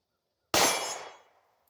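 A 9mm Glock pistol is fired once at a steel target outdoors, a single sharp crack with a metallic ring that decays over about a second, alone and fairly near.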